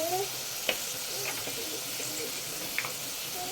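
Ginger garlic paste and turmeric frying in a pan for paaya made from trotters, a continuous soft sizzle with a few light clinks of stirring and a faint bird cooing nearby.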